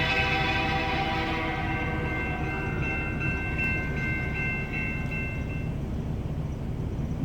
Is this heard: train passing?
yes